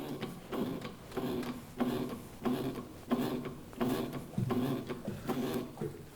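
The lift handle of a counterbalance drum lifter is pumped by hand, giving about ten regular rhythmic mechanical strokes, each a rubbing, ratcheting push, fairly close and moderately quiet.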